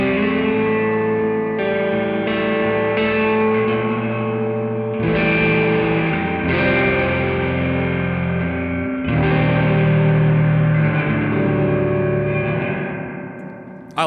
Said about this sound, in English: it just gives that nice subtle halo of a good spring reverb